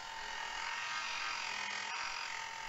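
A belt grinder running a 120 grit belt shapes knife handles, giving a steady, loud, high grinding whir that holds evenly throughout with only a brief dip in tone.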